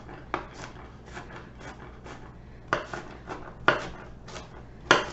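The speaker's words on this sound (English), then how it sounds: "So we're just dicing and whacking and chopping our onion." Knife chopping an onion on a cutting board for strawberry salsa, a series of irregular crisp knocks and scrapes, some louder strikes standing out, close and with no talking.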